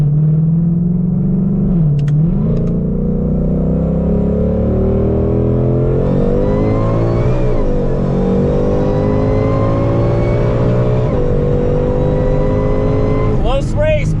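A twin-turbo Ford Mustang GT500 Mach 1 with HELLION turbos, full exhaust and about 850 wheel horsepower racing a C6 Corvette from a 60 mph roll in third gear, a loud continuous engine roar rising through gear shifts as people talk over it.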